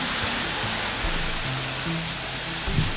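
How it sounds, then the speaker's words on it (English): A waterfall on the Four Waterfalls Walk in the Brecon Beacons roars as a loud, constant, broad rush of falling water heard from close by, with faint low rumbles beneath and no voices. "Sitting behind the waterfall and drying our feet."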